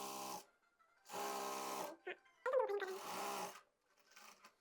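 A sewing machine stitches a seam on a six-panel palazzo in several short buzzing runs close up, separated by pauses, with speech around the stitching.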